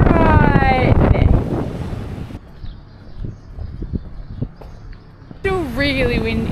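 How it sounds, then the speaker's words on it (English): Strong wind gusts across a harbour in Turkey, roaring and buffeting the microphone close up, with waves and boat sounds beneath and a person talking before and after the gusts. "Still really windy."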